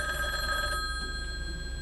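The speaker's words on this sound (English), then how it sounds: "Oh yes, when the phone rings," A telephone bell rings at moderate distance, a steady tonal ringing that stops partway, with a signaling device for deaf users connected to the phone.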